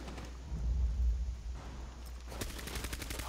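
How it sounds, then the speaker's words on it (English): Rapid automatic gunfire in the Rainbow Six Siege shooter during a hostage match on the Chalet map. A low rumble comes first, then a quick run of crisp shots near the end. "Fire guns rapidly."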